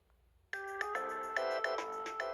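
A custom iPhone ringtone for phone calls starts after a brief near-silence, a bright, tonal electronic melody with repeated chime-like notes playing steadily and clearly on its own.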